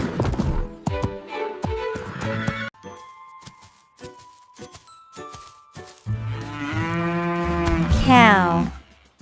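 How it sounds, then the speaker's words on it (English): Cartoon cow mooing loudly in a farm animals cartoon for toddlers, with several long drawn-out moos spread across the clip, the last one rising and strained. "Cow."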